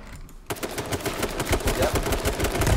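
Machine gun fire in the battle-royale game H1Z1 erupts after a brief quiet moment, a loud, dense stream of rapid shots that keeps going to the end.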